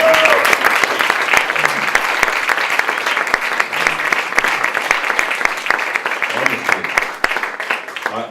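Audience applause at a film masterclass, a dense, sustained wash of many hands clapping close and loud throughout, with no break in the noise.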